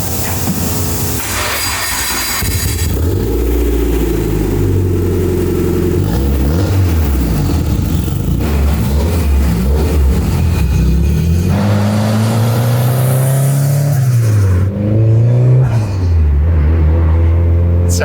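A project car's unmuffled-sounding engine, not tuned and without a blow-off valve, drones loudly and continuously from inside the car on the road, its pitch rising and falling as it revs and shifts under steady road noise.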